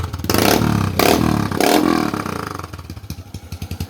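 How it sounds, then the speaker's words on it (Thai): A modified Honda Wave 125i motorcycle engine starts up with a rough clattering crank, revs a couple of times, then settles into a rapid, pulsing idle close by. "แล้วก็จะมาฟังเสียงสตาร์ทกันดูว่าคันนี้"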